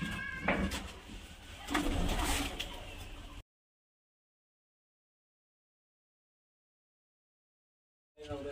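Giribaz high-flyer pigeons, including Kalshira and Kalduma types, coo close by in a few soft repeated calls for about three seconds. Silence follows, then a brief burst of sound at the very end.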